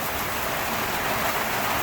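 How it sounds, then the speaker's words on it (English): Hail pelting down during an Australian summer storm, a dense, steady hiss-like patter of stones striking surfaces all around with no gaps and no voices. "Hail."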